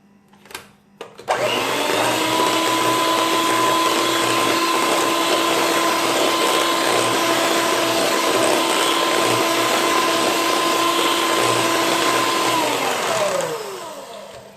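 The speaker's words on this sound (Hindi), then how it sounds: "ऐड करके मैं फिर से बीटर को 25 से 30 सेकंड के लिए चलाऊँगी जब तक कि इसमें अंडा अच्छी तरह से शामिल नहीं हो जाता" Electric hand beater mixing egg yolk into chocolate chip cookie dough, a loud steady motor whine running for about twelve seconds before winding down, close up with no talk.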